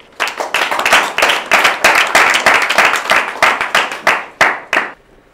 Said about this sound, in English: A round of applause for this beautiful program.